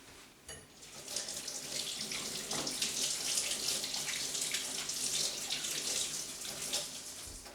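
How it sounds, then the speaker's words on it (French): Tap water runs steadily from a faucet into a sink for hand washing before cooking, a continuous loud splashing hiss that starts abruptly after a brief pause and carries on alone throughout. "aller se laver les mains"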